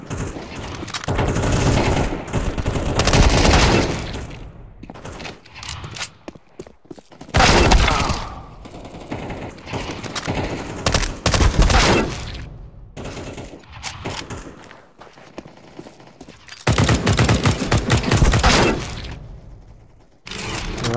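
Counter-Strike 2 deathmatch gunfire on Dust 2, loud bursts of rapid automatic shots in repeated volleys separated by brief quieter gaps with mechanical clatter, continuing across the whole stretch.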